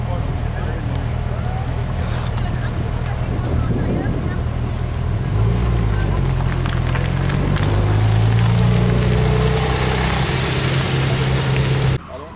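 At an outdoor supercar meet, a Porsche Speedster rumbles past with a low engine note that swells into a deeper drone and then fades. Crowd noise and people talking sit underneath.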